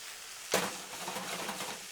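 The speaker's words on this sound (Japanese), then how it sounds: "中火から強火の間ぐらいの加減でジューという音がしているくらいまで" Vegetables for ratatouille sizzling in a pan over medium-high heat: a sudden hiss at the start settles into a steady crackling fry that carries on to the end, with no voices.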